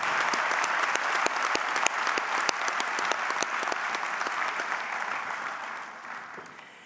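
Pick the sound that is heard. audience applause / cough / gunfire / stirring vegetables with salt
audience applause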